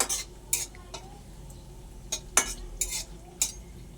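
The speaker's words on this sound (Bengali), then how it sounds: "কাজু বাদামটা একটু হালকা করে ভেজে নেব।" Cashew nuts being lightly fried in a pan already holding bay leaf, cinnamon, cloves and cardamom for basanti pulao, heard as soft sizzling broken by several sharp spoon scrapes and clinks against the pan at irregular intervals.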